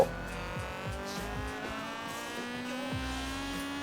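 Honda Civic EK9 engine in Forza Horizon 4, a modified car with a steady engine tone holding high revs, with a few quick upward rev blips and gear changes, loud and continuous with no talking.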